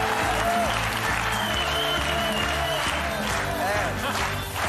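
Studio audience applauding the production teams on a French television show, a dense, steady wash of clapping with crowd noise and some cheering throughout, loud and close.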